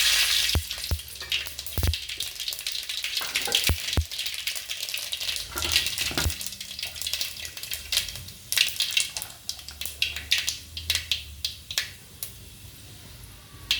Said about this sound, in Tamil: எண்ணெய் ஊற்றி வச்சுருக்குறோம். கரண்டி கடுகு போட்டுக்கலாம்.